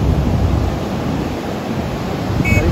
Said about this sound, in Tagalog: Kita nyo naman po yung hampas ng alon